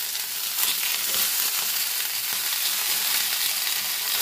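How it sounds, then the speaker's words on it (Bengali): Pumpkin pieces go into a pan of frying potato, pointed gourd and sweet potato for chapor ghonto, giving a loud, even close-up sizzle and hiss that carries on throughout. "দেখুন, আলু, পটল ও মিষ্টি আলুটা ভাজা ভাজা হয়ে গেছে।"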